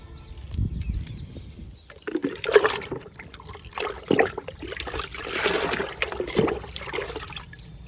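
Liquid plant fertilizer is poured onto okra plants growing in tubs, a few splashing and trickling pours in separate bursts with quiet gaps between, close and moderate in loudness with no talking.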